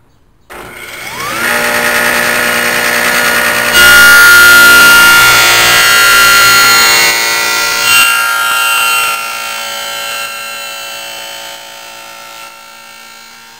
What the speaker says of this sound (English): the camera unfortunately did what it was supposed to do and tapered down the sound because the saw was too loud